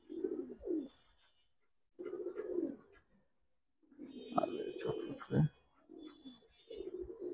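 Silver pankhi pigeons coo softly in several low, throaty bursts separated by short pauses, close and quiet, with some faint voices mixed in.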